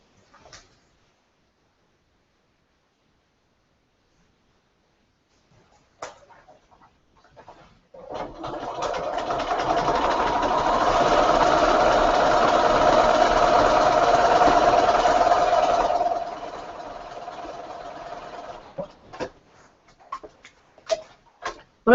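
A sewing machine stitches quilt block pieces together for a Dear Jane quilt, running in one steady, fairly close whirring burst of about eight seconds after a quiet start, followed by a few light clicks and taps.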